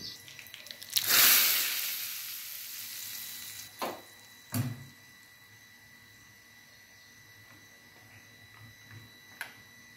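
Hot tempering is poured over ground coconut chutney with curd, giving a loud burst of sizzle that fades over a few seconds, followed by a couple of sharp knocks and then quiet crackling.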